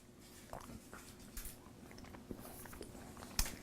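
Soft, close chewing on a Reese's milk chocolate peanut butter cup, with quiet sticky bites and faint crunches scattered over about four seconds and a sharper bite sound near the end.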